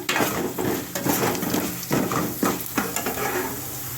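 Peeled pieces sizzle and pop in hot oil in a pan, with a utensil scraping and knocking against the metal in a loose, repeated stirring rhythm, close and fairly loud.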